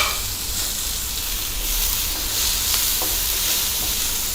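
Chopped tomato frying with browned onion in a pan for Kolhapuri mutton rassa, a steady close sizzle with faint stirring scrapes, no talk.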